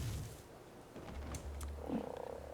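Frog croaking in the survival game ARK Survival Evolved, a low repeated croak running steadily under a burst of mid-range game noise, fairly close and moderately loud with no talk.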